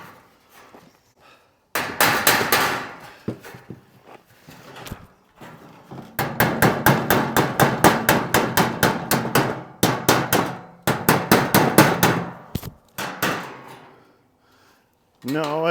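Dents being hammered out of a truck body using a small piece of steel as a makeshift dolly, rapid loud metallic blows in long rhythmic runs, close up, with brief pauses between bursts.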